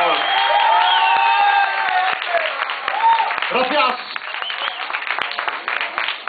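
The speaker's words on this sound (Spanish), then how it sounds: "Un aplauso, por favor." Audience applause and cheering for a singer, a burst of clapping from a live crowd while someone speaks over it.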